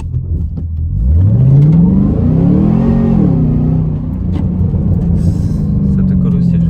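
A car accelerating hard from a standing start, its engine note rising steeply then shifting into a strained, sustained roar heard from inside, loud and close throughout.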